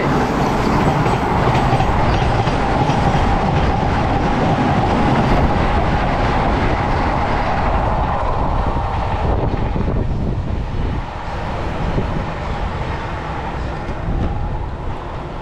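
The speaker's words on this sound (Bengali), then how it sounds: "হাওড়া পুরী বন্দে ভারত বেরিয়ে গেল আমাদেরকে ক্রস করে।" A Howrah–Puri Vande Bharat express roars past a MEMU train, a loud continuous rush of passing carriages with rail rumble throughout.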